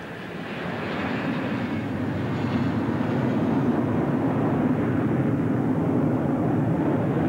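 A formation of aircraft at the Mildenhall Air Show in 1984 flies past slowly with undercarriage down, a loud, steady engine roar that swells in the first second and then holds.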